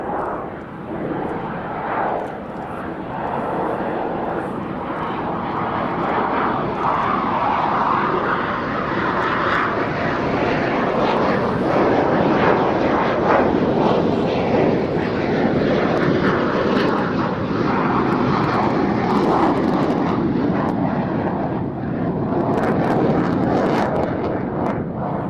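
An F-16 fighter jet flying an evening air show display, a sustained loud roar that swells and shifts in pitch as it passes, continuous throughout.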